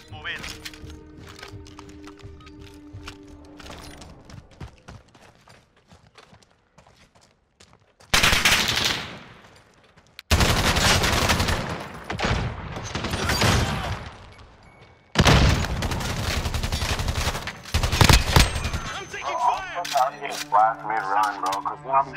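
Video game gunfire from Call of Duty MW: loud sustained bursts of automatic fire in several long volleys, with sharp cracks between them and voices talking over parts of the action.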